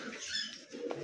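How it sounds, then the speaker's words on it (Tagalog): Racing pigeons coo softly inside a loft, low murmuring calls with faint rustling, close and quiet. "Tsaka ito yung mga dami palang ibon dito."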